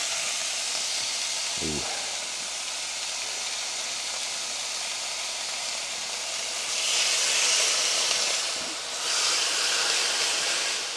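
A teriyaki-marinated ribeye steak hisses steadily on a grill, a broad continuous sizzle that swells louder near the end, with a brief exclamation from someone nearby.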